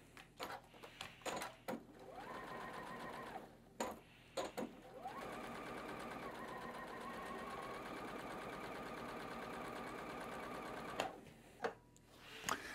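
A sewing machine stitches quilt block units together for a block-of-the-month quilt, starting with a few short bursts, then running steadily for several seconds before stopping, with brief clicks around the pauses.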